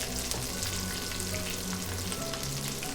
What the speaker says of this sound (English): I mean, oil frying.